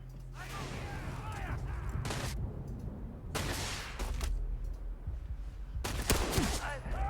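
Pistol gunfire in Starfield, a few separate bursts of shots spaced a second or two apart over a low background hum, fairly close but moderate in level.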